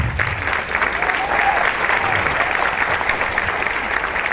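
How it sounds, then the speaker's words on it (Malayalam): An audience claps together at a seminar about giving RCM products as Onam kits, a dense, even wash of applause that carries loud and unbroken throughout, with a faint voice underneath. "ഇതാണോ കയ്യടി?"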